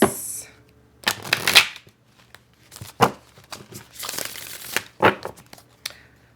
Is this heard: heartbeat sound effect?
no